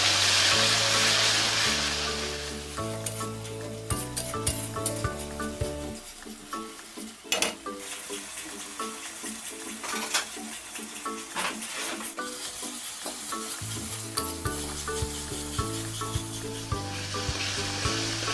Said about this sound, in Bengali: পেঁয়াজ বাটা দিয়ে আমি 5 থেকে 7 মিনিটের মধ্যে পেঁয়াজটা কষিয়ে নেব।